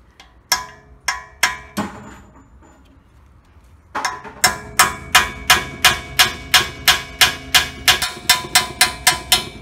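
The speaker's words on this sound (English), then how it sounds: "You're gonna want to beat on that spanner nut like it owes you money." Steel hammer blows ring out on the spanner nut of a 2000 Toyota Tundra two-wheel-drive front wheel bearing, a few sharp metallic strikes, a brief pause, then a fast steady run of loud, evenly spaced clanging hits.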